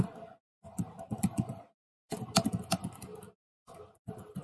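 Bursts of typing on a computer keyboard while code is entered, close and clear, with rapid clustered keystrokes broken by short silent pauses.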